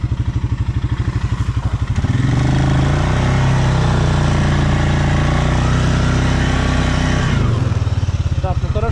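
A Stealth Leopard ATV engine runs in a snowy forest, close and loud, with a throbbing idle rising into a sustained higher rev before dropping back to the pulsing idle.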